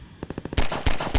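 Gunfire in the Half-Life 2 video game: a quick burst of four or five close automatic shots followed by three heavier, louder blasts, all within about a second.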